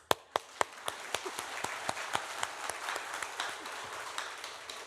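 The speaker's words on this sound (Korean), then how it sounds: "베드로 박수 한번" Church congregation clapping during a Sunday sermon, starting with a few loud, distinct claps that quickly merge into a steady, moderate round of applause filling the hall.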